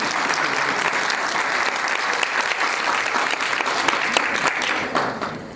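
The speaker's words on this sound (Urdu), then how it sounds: "تو چاہوں گی بھرپور تالیوں میں آپ ان کا استقبال کریں" A crowd breaks into steady, sustained applause to welcome the chief guest, Allama Hafiz Saad Hussain Rizvi of Tehreek-e-Labbaik Pakistan, at a gathering, the clapping dense and even before easing slightly at the end.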